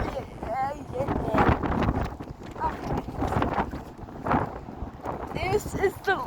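Strong gusty wind buffets a microphone outdoors in Alberta, rumbling in uneven surges, with a person talking through it.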